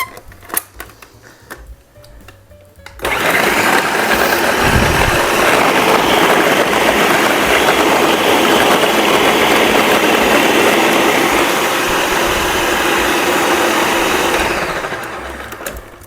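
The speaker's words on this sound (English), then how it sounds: "so let's blend this up" A blender whirs through a whole orange for cake batter, starting after a few quiet seconds with loud, steady grinding and then winding down near the end.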